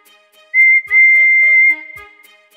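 Toby the tram engine gives a clear, shrill steam whistle in two close blasts, the second held longer, loud and near, then fading out.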